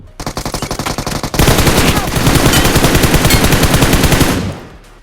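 Automatic gunfire in the BGMI battle royale game, a rapid burst of evenly spaced shots followed by a longer, louder sustained volley that cuts off near the end, close and very loud with no talk.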